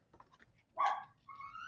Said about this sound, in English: that was my dog, if you can believe it, making all kinds of crazy noises.